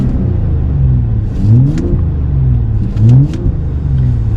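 A 2021 Ford Performance F-150 Raptor engine idles with a deep, close rumble and is revved twice, each rev rising sharply and then falling back to a steady idle.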